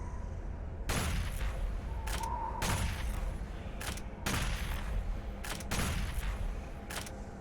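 Gunfire aimed at an Arachnotron in Doom Eternal, with several sharp shots in separate bursts about every second, loud and close, over a constant game background.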